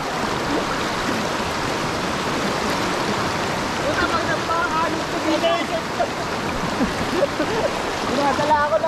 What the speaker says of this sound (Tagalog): Habang papalapit kami ng papalapit ay mas lalong lumalakas ang agos.